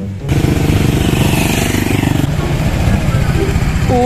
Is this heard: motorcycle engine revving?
yes